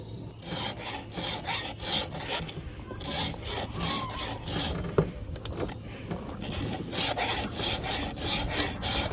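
A hand file sharpens a chainsaw chain on the bar during firewood cutting of a poplar tree, with steady rhythmic rasping strokes repeating close up and no talking.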